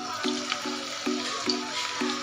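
Small onion bhaji fritters dropped into hot oil, a steady sizzle with faint bubbling and light clinks recurring through, no voices.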